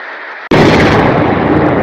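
A missile strike on Baghdad lands as a sudden, loud, close explosion that breaks into a sustained, rumbling roar of blast noise, with no talk.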